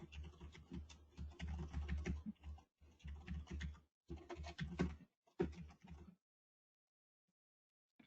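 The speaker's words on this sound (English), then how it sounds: "We're going to open up a terminal, and then we're just going to type that command in right there." Rapid bursts of typing on a computer keyboard as a command is entered into a terminal for a Pi-hole setup, close clicking keystrokes in several runs separated by short pauses, then silence.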